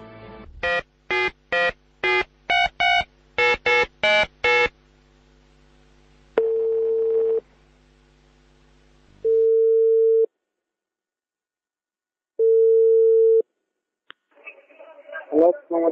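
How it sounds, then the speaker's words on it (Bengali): A quick burst of telephone keypad dialing tones opens an outgoing phone call, followed by three long, steady ringing tones separated by silent gaps, clear and close, with a brief muffled pickup noise at the end. "আমরা ফোন কলে যাচ্ছি"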